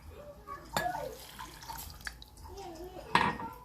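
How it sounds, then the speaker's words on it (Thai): Boiling water poured from a container onto two spoonfuls of Thai tea powder, giving a short watery splash and trickle with a few clinks, heard close up beneath a woman's speech. "แล้วก็เราก็เทน้ำร้อนลงไปนะคะ"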